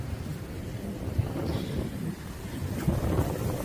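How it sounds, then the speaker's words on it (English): Steady wind gusting across the microphone, a low rumbling buffet that stays fairly constant with no voices. "Really windy as well."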